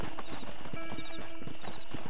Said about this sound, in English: Ride horse.